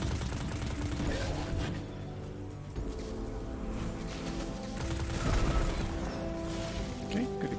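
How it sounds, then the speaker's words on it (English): A firefight rages in the Destiny 2 shooter, with a dense barrage of gunfire and crashing blasts at steady, high loudness throughout. A heavier burst comes near the middle of the stretch. "Explosion."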